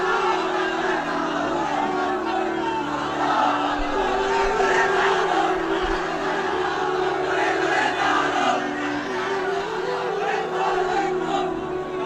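A large crowd at a rally chants slogans in unison, a dense, steady roar of many voices that carries loudly throughout without a break.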